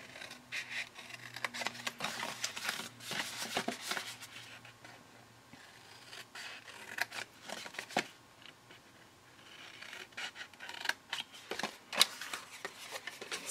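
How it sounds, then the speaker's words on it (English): Scissors or a blade cut through a cardboard box up to the score line, close, irregular bursts of snipping and scraping with brief pauses between strokes, no talk. "I'm going to cut up to the score line"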